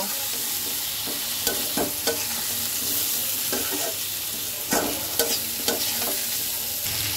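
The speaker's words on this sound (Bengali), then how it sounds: "এইবার আমি সবকিছু একসাথে সুন্দর করে মিক্স করব।" Vegetables with salt, turmeric and coriander powder are stirred in a hot pan for a bottle gourd greens dish, steady sizzling broken by repeated scraping, clinking strokes of a spatula.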